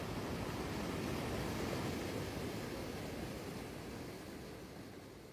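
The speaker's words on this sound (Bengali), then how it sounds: "তাই কম জল থাকবে জেনেও চলে আসা সুগ্গাবাঁধ ওয়াটারফল দেখতে" Sugga Bandh waterfall near Netarhat running low in winter gives off a steady broad rush of falling water. It is loud and constant and fades slightly toward the end, with no voices.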